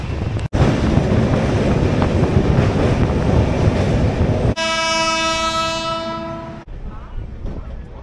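Passenger train running from Kolkata to Jhargram, a loud steady rumble of wheels on rails close by, then a long sustained horn blast for about two seconds before the rolling noise returns.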